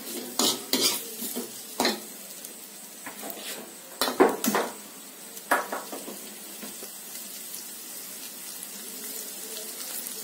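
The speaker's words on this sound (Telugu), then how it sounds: "ఇవన్నీ ఉల్లిపాయలు వేగిపోయాయి, లైట్ బ్రౌన్ గా వచ్చేసేసారా" Onions being fried until light brown for a drumstick masala curry get stirred in a pan, with clinks and scrapes of a utensil against metal in irregular bursts over a faint sizzle.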